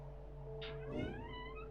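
Pet cat Tilly gives a single short meow, faint and close, over a steady droning fan hum.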